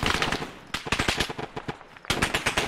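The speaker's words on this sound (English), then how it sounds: "he's shooting at us" Automatic gunfire in the military shooter game Arma 3, loud and close, in rapid bursts of sharp cracks with brief lulls before a dense final volley.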